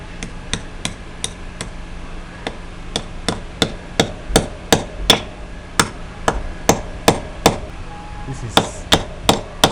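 A hammer drives a nail into a wall to fix a satellite dish bracket, sounding as a long series of sharp, close, fairly regular blows with brief pauses between them.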